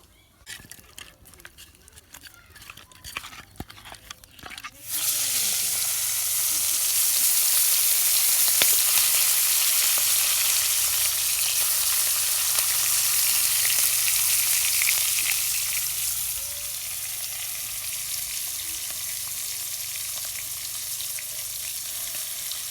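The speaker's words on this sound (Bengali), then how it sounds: "এইদিকে আমি মাছ ভাজা করে দিছি" Loud, continuous oil sizzle of spiced fish frying, starting abruptly after some handling clatter and easing slightly toward the end.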